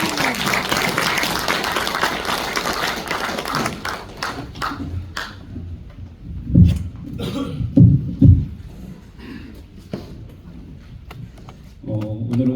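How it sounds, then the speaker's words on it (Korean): A lecture audience, apparently at a church, applauds as Professor Im Jae-geun comes forward to speak on peace and reunification: dense, loud clapping for about four seconds that thins out and gives way to someone talking. "나오실 때 큰 박수로 맞이해 주시면"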